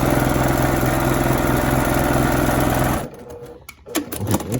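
Sewing machine stitching a quarter-inch seam while piecing quilt hexagons, a loud, fast, steady mechanical hum close by for about three seconds, then stopping, followed by light handling clicks and rustles.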